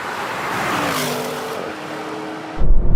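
An Audi RS and an electric Audi e-tron GT drag race, their steady driving roar rising in pitch as they pick up speed, followed by a sudden louder rumbling thump near the end.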